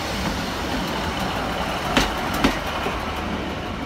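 Class 153 diesel unit 153331 rolls into a platform at Lancaster, a steady rumbling drone with two brief clanks partway through, heard close and alone.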